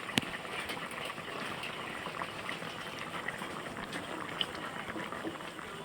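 Hilsa fish curry with plantain and potato boiling in a covered pot, a soft, continuous bubbling and simmer at low level with a few small ticks and pops.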